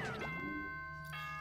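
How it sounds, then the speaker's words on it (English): A quick ding-dong chime from the video game Danganronpa 2: Goodbye Despair rings out, a soft two-note tone that lingers over faint background music, quiet and without talk. "That chime just now."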